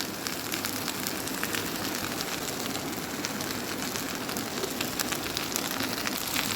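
Potatoes fry in hot oil, making a steady, dense, crackling sizzle that holds at an even level throughout, with no talking.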